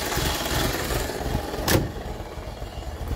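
A Peugeot 205 GTI car engine idles with a low, steady hum, joined briefly by a short sharp click or clunk midway.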